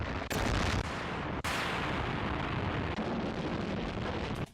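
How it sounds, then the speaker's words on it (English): A long, sustained explosion effect from an anime sound library plays loud and continuous, with sharp blasts breaking in near the start and a rumbling roar holding steady for several seconds before cutting off. "So this is a good long sustained explosion."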